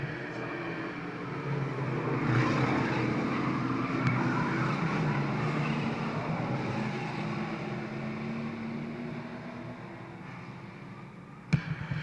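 Ford and Chevrolet stock cars race on an oval track, their engines making a steady, loud, continuous roar that holds for most of the stretch, with a brief sharp bang near the end.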